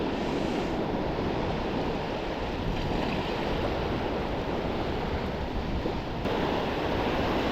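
Sea waves wash steadily onto the shore at Folkestone Warren as a small tide creeps slowly in, a continuous close, loud rushing surf with some wind, no voices.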